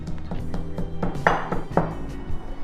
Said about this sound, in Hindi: तमाम रोस्टेड इंग्रेडिएंट को इमाम दस्ते के अंदर डाल के अब हम पीस लेंगे